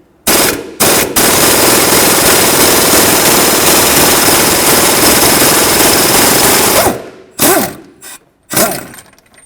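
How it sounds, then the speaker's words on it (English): A powerful pneumatic impact gun with a 24mm socket hammers loose the crankshaft pulley bolt on a Chevy Express 3500, a loud, close, continuous rattling burst of about six seconds, followed by a few short blips. "With a 24mm socket and a very powerful air gun, let's go ahead and try and break this free."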